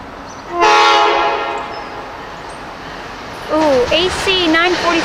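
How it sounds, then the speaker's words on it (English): An Amtrak train led by an AEM7 electric locomotive passes at Southport, giving a long blast of its horn, then a second, warbling series of horn notes; the sound is loud and close. "Amtrak coming. I didn't think there'd be one. That's an AM7 leading."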